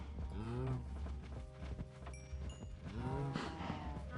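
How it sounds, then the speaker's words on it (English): Blocky cattle in the Minecraft video game low repeatedly, with two clear moos near the start and end over a steady bed of game ambience and soft clip-clop steps. "A lot of heifers. A lot of cows. A lot of cows, actually."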